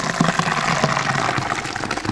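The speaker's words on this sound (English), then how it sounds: "now we're ready to transfer all of our mash from our kettle directly into our mash tun" Thick beer mash pours from a brewing kettle into a mash tun during an all-grain batch, a close, steady gushing splash that runs without a break.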